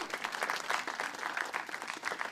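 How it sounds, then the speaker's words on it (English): Applause from a university commission event audience, a short, fairly faint patter of clapping hands with no voices over it. "So give yourselves an applause."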